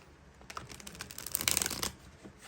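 Tarot cards being drawn and handled produce a soft, close flurry of papery riffling and flicking that builds to a brief busier burst in the middle before settling, with no talk.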